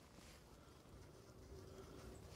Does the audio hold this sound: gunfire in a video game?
no